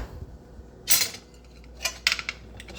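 A metal lid comes off a pot of ramen with a bright clatter, followed a second later by a few lighter metallic clinks and taps nearby.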